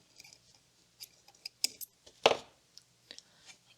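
Small scissors snip the threads of a beaded loom bracelet from a Dollarama bead weaving kit, a series of close, crisp clicks and cuts with one louder snip in the middle, no talking.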